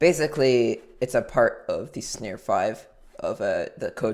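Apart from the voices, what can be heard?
None of the usual background noises is heard.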